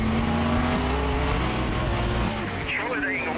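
A race car engine roars past, loud and close, its pitch sliding as it goes by, with another engine whining up near the end and crowd or commentary noise mixed underneath.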